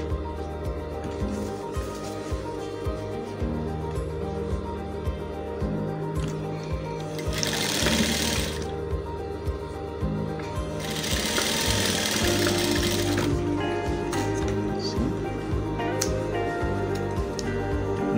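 A sewing machine stitches a vintage shirt with a rapid mechanical whir and ticking, running in bursts close by with short louder stretches and no talk.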